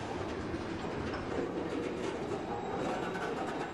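Freight train cars, including hopper cars, roll past on rails with a continuous, loud rumble and faint clickety-clack of wheels, close by and steady throughout, with no talking.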